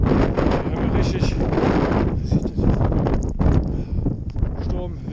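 Strong sea wind during a packraft trip buffets the microphone, a loud continuous roaring rumble with gusty swells throughout, while someone talks over it.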